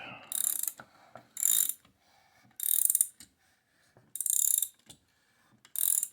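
A Yamaha Raptor 660 engine being turned over by hand: slow mechanical clicking and ratcheting, with bursts of hissing air at regular intervals, close and fairly quiet.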